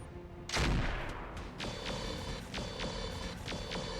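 Arrow 4 artillery fires in the RogueTech mech game: one heavy booming launch, then a rapid series of sharp repeated blasts and impacts at close range.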